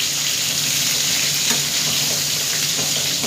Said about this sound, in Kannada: ನೋಡಿ ಚೆನ್ನಾಗಿ ಫ್ರೈ ಆಗ್ತಾ ಇದೆ.